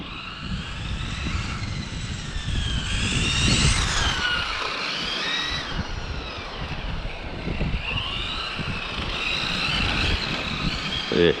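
A Hobao Extreme VTE2 1/7 drift NASCAR running on 6S spins in place, and its electric motor gives a loud, steady, whining drone that rises and falls in pitch as the car circles, with tire scrubbing underneath.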